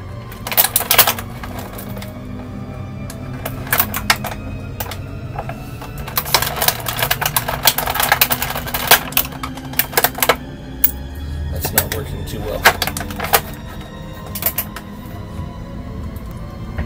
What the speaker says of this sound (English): I'm going to have to use a pocket knife to cut these rubber bands